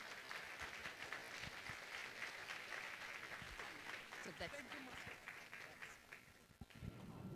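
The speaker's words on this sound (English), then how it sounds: "I would like you to applaud her" A conference audience at a women's forum plenary in Brazil applauds with steady, sustained clapping that fills the hall at a low, distant level and fades slightly toward the end.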